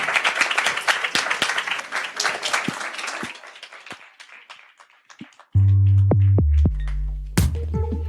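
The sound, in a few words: audience applause at end of podcast discussion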